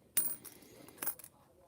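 Quarter coins being handled and dropped, with a sharp metallic clatter at the start and a second burst of clinks about a second later, followed by faint rustling.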